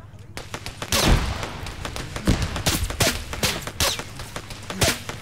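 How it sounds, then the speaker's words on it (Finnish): Gunfire in the video game Arma 3 crackles as a series of sharp, irregular shots and bursts, some near and loud, others farther off, with people speaking over the firing. "Kun mä en näe, mistä ne ampuu."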